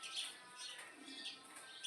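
A pet myna bird calling close by, a series of bright chirps and whistled squawks repeating through the moment, fairly faint indoors with no talk.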